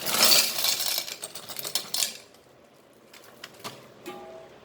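Dry pasta tipped into dal with spinach in a pressure cooker, a burst of rattling, clattering pieces at close range that tapers into a few scattered clinks and taps.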